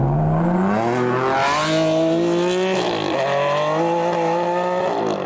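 A Ferrari Enzo supercar's engine accelerates hard and loud, its rising harmonic wail climbing through the revs, dipping briefly near the middle, then climbing again without any talk.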